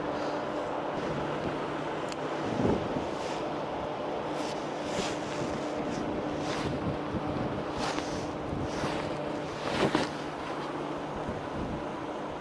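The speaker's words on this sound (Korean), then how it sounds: "바람 장난 아니다" Strong wind at Sinjindo harbor in Taean, on Korea's west coast, during shore fishing, a constant roaring gust buffeting the microphone, with occasional louder bursts and faint surf or boat rumble beneath.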